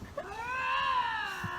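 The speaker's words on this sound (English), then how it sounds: "it sounds like a little kid going roar," A lynx gives a single drawn-out, whining yowl lasting over a second, close and clear, with a faint noise at its tail end.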